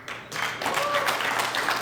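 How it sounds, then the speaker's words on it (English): An audience at a community wellness gathering starts clapping after a short quiet pause, the applause swelling quickly into a steady mass of claps with some voices mixed in. "Hold up. Don't clap for that."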